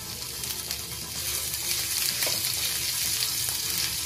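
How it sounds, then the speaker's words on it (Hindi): Finely chopped ginger hits roasted cumin in a hot pan while cooking dahi ki sabzi, giving a soft, steady oil sizzle that swells slightly and continues alone. "जीरा भुन गया है, अब हम इसमें 1 टीस्पून अदरक डालेंगे बारीक कटी हुई।"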